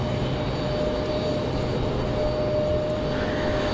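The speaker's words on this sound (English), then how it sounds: "Headed off to Houston for Ash 6296. That one a Mesa Airlines." A Mesa Airlines jet departs Raleigh-Durham bound for Houston, its engines giving a constant, loud broadband roar with a faint tonal whine, heard alone without talk.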